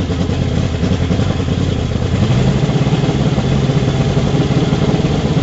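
A Mercury 225 outboard motor on a Boston Whaler Outrage idles at a steady, loud, even rumble, running alone with no talk.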